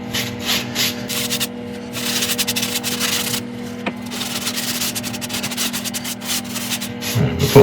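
A wood burl spinning on a lathe while being polished with abrasive paste, giving a steady rubbing, scratchy hiss over a constant low motor hum, with short bursts of sharper scraping at the start and end.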